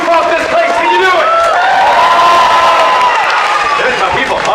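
A large crowd at an Indiana Jones stunt show in a Disney's Hollywood Studios arena claps and cheers in a sustained, dense wash of noise, with whoops rising above it.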